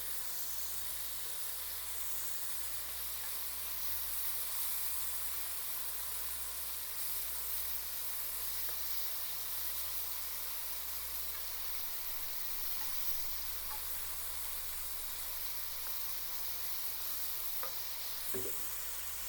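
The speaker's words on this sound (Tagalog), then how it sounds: "Kailangan natin i-fry muna, i-brown muna natin dito sa kawali bago natin igisa para maging adobo." Pork browns in hot oil in a kawali for adobo, making a steady, moderate hiss and sizzle throughout, with a faint clink near the end and no talking.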